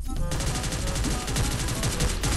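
Rapid, sustained automatic G36 rifle fire in Free Fire rattles loud and continuous, with a steady rhythmic burst of shots.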